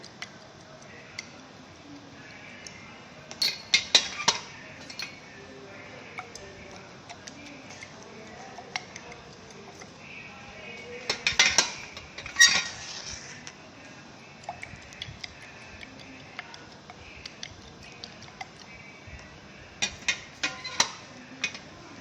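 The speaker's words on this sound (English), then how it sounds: "These test tubes. Again we have to mix it well." Clusters of sharp glassy clicks and rattles from test tubes being shaken and mixed during a Lowry protein estimation, coming in short bursts separated by quiet gaps.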